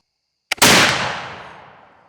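A single loud, close Traditions flintlock rifle shot: a brief priming flash crack, then the main blast a split second later, ringing out and decaying over more than a second in open air.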